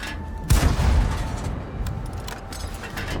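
A tank's main gun fires in an online tank battle game, one loud, booming shot up close followed by a rumbling decay and scattered battle noise.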